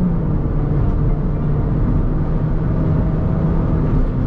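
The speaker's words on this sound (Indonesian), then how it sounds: "Wah, kenceng banget sih ini mobil." A Mini Cooper S R56 accelerating hard, heard from inside as a loud, steady engine roar and drivetrain rumble that holds at a constant level without a break.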